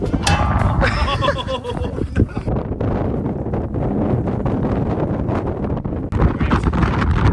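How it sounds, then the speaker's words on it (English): Strong wind at McMurdo Station, Antarctica, buffets the microphone with continuous loud rumbling and rushing gusts throughout, with no clear speech. "when we teed off for hole number 6, the wind picked up"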